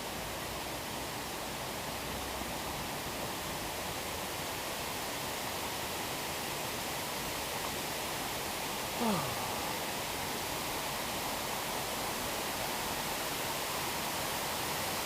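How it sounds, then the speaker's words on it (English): A 20-foot waterfall in Paley Park, Midtown Manhattan, gives a steady, dense rush of falling water that fills the scene evenly, a constant broadband roar with a brief faint squeak partway through. "Paley Park has a 20-foot waterfall in order to block out the noise of the city around us"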